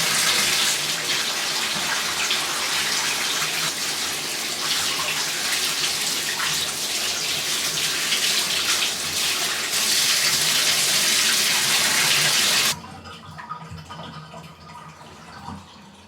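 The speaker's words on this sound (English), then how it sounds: "So I'm about to wash it out." Water runs strongly and continuously from a tap as bleached hair is rinsed, a loud, steady gush that cuts off abruptly near the end, leaving quiet room tone.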